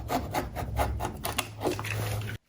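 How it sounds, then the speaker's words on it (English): A rotary cutter trims excess material on a craft belt case, giving quick repeated rubbing and rasping strokes close by that cut off abruptly at the end. "now I'm going to come in with the rotary cutter here and trim off this excess."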